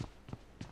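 Footsteps in the PUBG video game, three evenly spaced soft thuds on a hard surface, fairly faint, with no talk over them.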